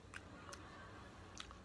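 Crunchy salad of lettuce and pepper with Italian dressing is bitten and chewed close up, giving three quiet crisp crunches over a low background hiss.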